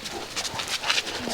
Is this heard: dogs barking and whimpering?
yes